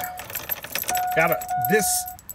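Keys jangle in the ignition switch of a 2002 Chevrolet Suburban with 241k miles, a light metallic rattling heard close up with a steady tone, while a person speaks briefly over it.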